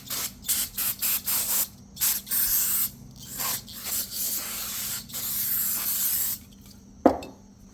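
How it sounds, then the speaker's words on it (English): Several short bursts of brake cleaner aerosol spray hiss in quick succession, then longer sustained sprays onto a brake rotor, close up, followed by a sharp clack near the end. "take some brake clean, just like as you would do with a new rotor. Spray around here"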